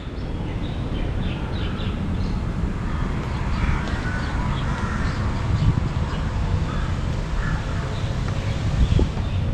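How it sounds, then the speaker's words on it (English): Crows caw repeatedly in the old alleyways of Rattanakosin in Bangkok, scattered calls at moderate distance over a constant low rumble of city traffic and wind, with faint voices in the background. "When you walk around this area, you always hear those crows."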